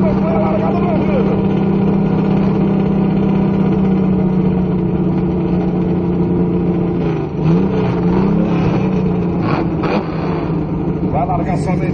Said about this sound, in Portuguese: Acompanha a largada aí no ouvido, acompanha a largada no ouvido